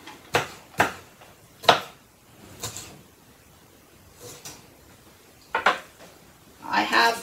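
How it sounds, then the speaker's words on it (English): A knife chops harvested vegetables into small centimetre-square chunks on a board, with a few sharp, separate knocks spaced irregularly and a quick cluster of cuts at the end, close and fairly quiet. "cut them into strips first of all, and then into, I suppose, centimetre square chunks"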